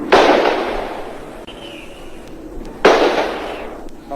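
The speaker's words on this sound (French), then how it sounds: "Des coups de feu qui partent, on ne sait pas pourquoi, on ne sait pas sur qui." Two sharp gunshots ring out in the street during the fall of Saigon, each a loud crack with a decaying echo, roughly three seconds apart, amid faint background noise.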